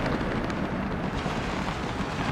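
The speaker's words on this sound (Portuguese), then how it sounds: "Uma explosão, olha." A continuous, heavy roar of an explosion in the Warframe video game, loud and dense with low rumble throughout and no speech.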